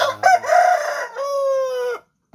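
A gamecock crows loudly and close by, one full drawn-out cock-a-doodle-doo that cuts off abruptly.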